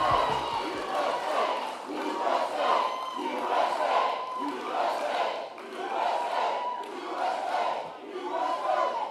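A large crowd at a political rally for Vice President JD Vance in North Carolina roars and chants in rhythmic waves, loud and continuous, with a few claps at the start.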